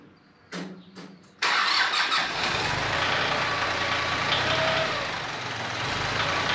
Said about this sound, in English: So I'm going to go get my tractor and lift this out with a loader bucket and the front forks.